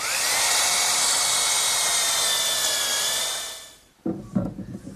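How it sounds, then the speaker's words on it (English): Drill boring a 1/2 inch brad point bit through two stacked pieces of wood, a steady loud whine for about four seconds that winds down, followed by brief clatter of handling. "I'm ready to drill the holes using a 1/2 inch brad point bit, and I'll go through both pieces at once."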